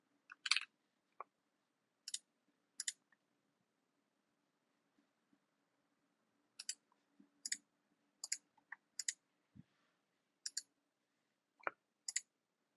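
Mouse clicks sound in short, sharp pairs and singles spread across quiet stretches, close and clear over a faint steady hum, with no talking.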